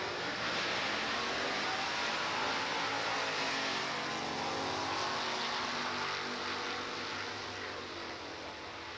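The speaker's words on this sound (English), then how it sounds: "Pretty impressive run for the pickup truck, the Country Cadillac" A pickup truck nicknamed the Country Cadillac makes a drag strip pass in Sportsman ET racing, its engine a steady loud roar that fades slightly toward the end, with no voices over it.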